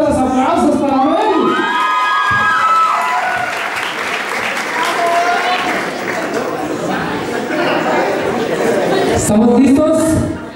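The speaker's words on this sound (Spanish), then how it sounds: "Que se escuche fuerte, fuerte los aplausos para Mel." A loud crowd at a quinceañera celebration applauds and cheers steadily, with children shouting and whooping over the clapping throughout, and a brief surge of cheering near the end.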